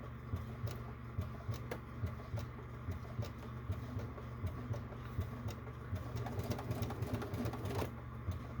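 A sewing machine stitching a clutch bag runs in a steady, rapid mechanical patter, fairly quiet and close, with no talk over it.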